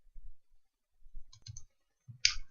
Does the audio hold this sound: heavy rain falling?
no